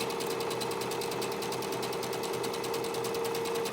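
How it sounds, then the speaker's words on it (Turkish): A sewing machine stitches a table runner up to the corner, a loud continuous rapid needle clatter with a steady motor hum throughout, with no voices. "köşeye kadar dikişimizi tamamlıyoruz"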